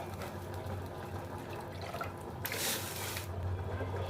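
Water splashes and trickles steadily into a pan of fish curry, with a brief louder gush partway through over a low background hum.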